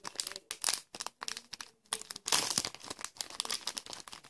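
A small plastic heart-shaped zipper bag from Daiso crinkles and rustles in repeated close bursts with brief pauses between handlings; no speech.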